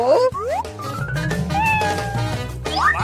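A cat meows several times in quick succession, loud and close, with rising and falling whiny calls over a low background hum.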